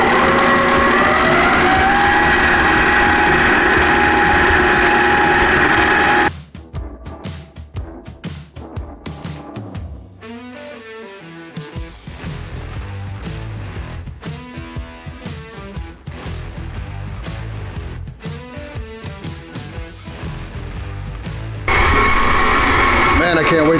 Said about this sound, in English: And then you turn on your mixer.